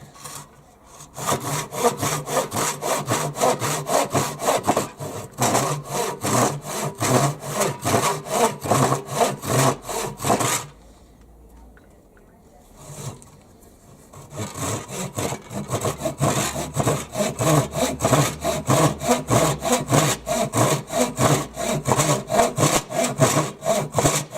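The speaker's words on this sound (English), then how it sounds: "the saw is staying perfectly on line" A Japanese pull saw cuts through a 2x4 of lumber with fast, steady rasping strokes, loud and close, pausing briefly midway before resuming the rhythmic sawing.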